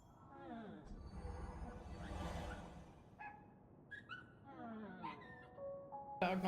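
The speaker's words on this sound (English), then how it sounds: "they sound like doggies in distress" In the Honkai Star Rail game, dog sounds whimper and yip in high, wavering, distressed cries that rise and fall, mixed with a voice and soft background noise.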